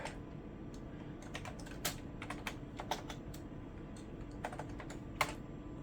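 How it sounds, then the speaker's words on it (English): Quiet, irregular keystrokes clatter on a Packard Bell Legend 130CD computer keyboard, a scattered run of light clicks and taps heard close over a faint steady hum. "It's awkward typing from over here."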